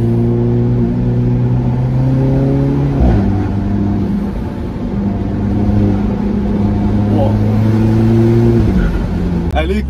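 A turbocharged sports car engine pulls hard in third gear, its loud rising drone climbing in pitch, dropping briefly at a shift, then climbing again, with someone talking over the engine.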